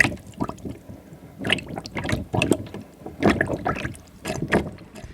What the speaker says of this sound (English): As you can hear it, it sounds like a plunger.